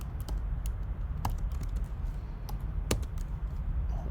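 A computer keyboard clatters with quick, irregular key presses as Swift code is typed, close and steady, with no talking.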